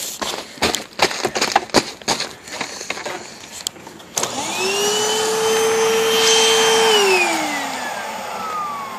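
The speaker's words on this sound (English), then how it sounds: "Let me try vacuum up some stuff." A vacuum cleaner sucks up snow outdoors. A few seconds of scraping and bumping come first, then the motor starts with a loud steady whine close to the microphone, rising in pitch before winding down.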